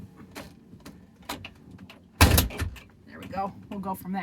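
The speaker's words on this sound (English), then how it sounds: "let me shut this door." A door is pushed shut with a loud close thud, followed by a person speaking nearby.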